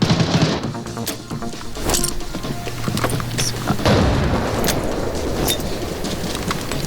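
A loud, heavy boom from a grenade explosion in Arena Breakout: Infinite rolls out, followed by rumbling debris and a steady roaring wash of noise.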